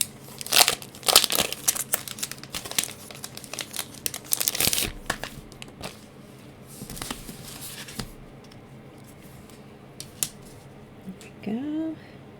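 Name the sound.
cutting out decorative paper frame card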